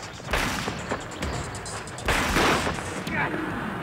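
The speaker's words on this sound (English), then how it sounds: "And Greg actually shoots with his gun." A handgun fires during a crime reenactment: several sharp, loud bangs with a heavier blast midway, set against a noisy, reverberant background.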